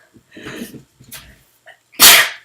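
A single loud, close sneeze bursts out near the end, preceded by a few quiet breaths and sniffs.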